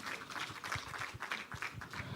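Audience applause at a press conference in Nigeria, a fairly faint, even patter of many hands clapping that carries steadily from start to finish without pause.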